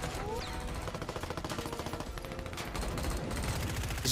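Rapid automatic FFAR gunfire in Black Ops 6, a dense rattling burst of shots in quick regular succession, loud and sustained across the moment.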